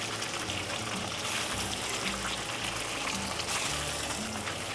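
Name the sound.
tofu frying in oil in a pan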